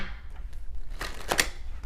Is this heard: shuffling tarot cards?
yes